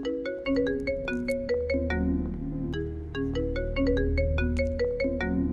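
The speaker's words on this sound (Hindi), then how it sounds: "अरे भाई फोन आ रहा है तेरी लव का" A mobile phone rings with a repeating electronic melody of bright chiming notes over a steady backing, loud and close, playing continuously without talk.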